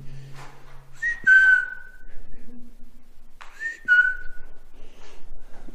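A person whistles inside a cleared-out Napoleonic fort in Plymouth: two rising-then-gliding whistled phrases a couple of seconds apart, fairly loud and close, with a faint hollow room ambience between them.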